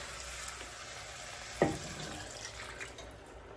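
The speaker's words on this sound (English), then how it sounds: "And we're going to fill this up with water." Water poured into a pot of browned chicken legs for a Louisiana sticky chicken recipe hits with a sudden splash and gush, then settles into a quieter sizzle and trickle.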